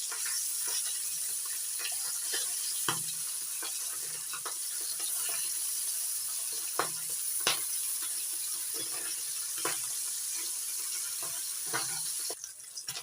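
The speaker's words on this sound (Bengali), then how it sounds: "গ্যাসের ফ্লেমটা মিডিয়াম রেখে মাছগুলো ভেজে নিচ্ছি।" Tengra fish fry in a pan on a medium gas flame, a constant high sizzle broken by crisp pops and spatula taps, no talking.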